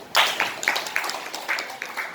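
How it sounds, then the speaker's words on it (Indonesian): Sparse, light handclaps from a small classroom group acknowledging a student named Nadine during a biotechnology lesson, a few uneven bursts of clapping at moderate distance. "Tepuk tangan buat Nadine."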